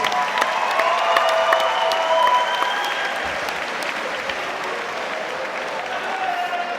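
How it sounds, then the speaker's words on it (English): A crowd at a ringside fight event applauds two female fighters, with dense, sustained clapping, a few whoops and cheers, and a background announcer voice, holding steady in volume throughout. "a big round of applause for both of these fighting ladies."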